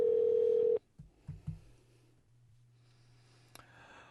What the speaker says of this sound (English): So I'm just putting in the numbers here, which I will not say out loud, so Billy doesn't get a bunch of phone calls